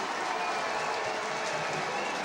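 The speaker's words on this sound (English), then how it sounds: "getting a great cheer from their supporters" Supporters of the Terenure College team cheer at a Leinster Schools Junior Cup rugby final, a steady, fairly distant crowd roar with applause, continuous and even throughout.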